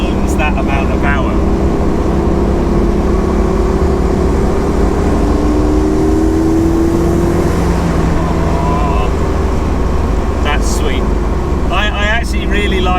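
A 400hp twin-turbo V8 Morris Minor drives with a steady loud engine drone and rising turbo whine from start to finish, with brief bursts of a voice near the beginning and the end.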